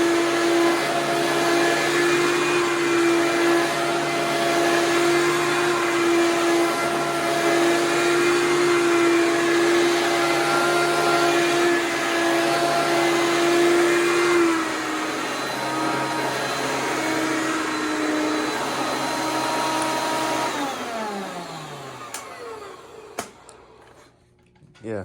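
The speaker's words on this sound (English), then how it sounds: "if you don't like loud vacuums, you might want to turn your volume down" A Hoover PowerMax upright vacuum cleaner with a two-speed motor runs loud and close with a steady high whine, dropping in pitch partway through before winding down and switching off near the end.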